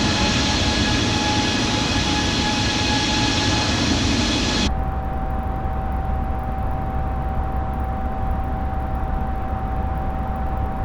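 A continuous Airbus A320 jet engine drone with a steady whine in Microsoft Flight Simulator 2020, which abruptly shifts midway to a lower, muffled cabin-like hum that continues evenly.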